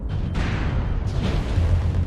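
A mech's ammunition explodes in a MechWarrior game, a loud sustained boom and roiling blast noise filling the whole stretch with no clear break.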